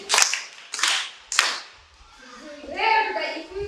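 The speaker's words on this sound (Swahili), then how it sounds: "Jipigie makofi wote." A class of primary schoolchildren claps in three short bursts of applause, followed by children's voices chattering and singing briefly.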